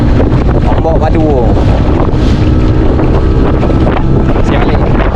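Strong sea waves and gusting wind batter the microphone around a small fishing boat at sea, a loud continuous roar with churning water throughout, and a voice calls out briefly under the noise.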